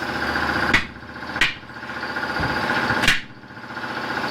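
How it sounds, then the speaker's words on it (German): A rim ring is hammered into a truck tire at a roadside breakdown, with three sharp, loud metal blows spaced unevenly over a steady engine idle. "Da wird der Felgenring jetzt eingeschlagen in den Reifen."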